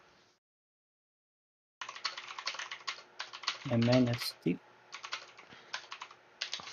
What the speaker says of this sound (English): I'm just typing the meta trade.